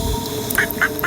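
Duck quacking in an audio story: three short, clear quacks in quick succession over a soft background bed.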